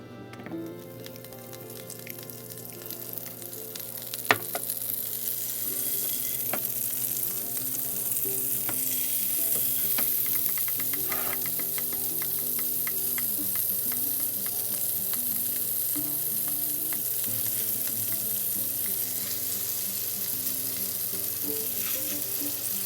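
Steady, loud sizzling of steaks frying in lard and butter in a hot pan, with crackling pops and a brief clang of a utensil early on.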